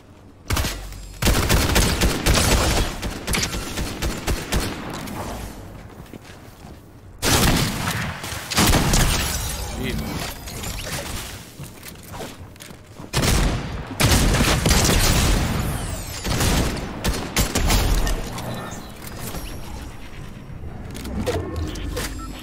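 Dense bursts of gunfire from shooting in the Fortnite video game, loud and sustained in long volleys with brief pauses between them, booming low thuds mixed in.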